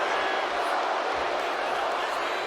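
Steady game crowd noise from WWE 2K26 wrestling, a broad even roar of cheering with scattered clapping, under commentary talk throughout.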